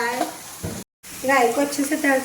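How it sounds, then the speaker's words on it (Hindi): Mustard seeds sizzle and crackle steadily in hot oil in a pan while someone talks over it, with a brief gap of silence midway. "तो पहले मैं डालूंगी राई, और राई को अच्छे से तड़का"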